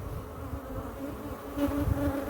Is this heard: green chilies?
no